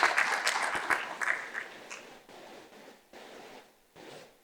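Audience applause at a mining technology summit panel, a loud burst of clapping that thins out and fades over a few seconds.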